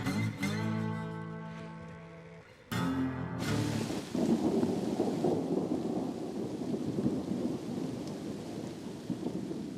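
A thunderstorm with pouring rain passes over a cyclist sheltering under a big pine tree, loud thunder rumbling early on before a dense, steady roar of heavy rain takes over.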